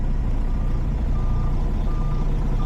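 A semi-truck tractor in reverse gives off repeated faint reversing beeps over its loud, steady low diesel idle, close by, with no one talking.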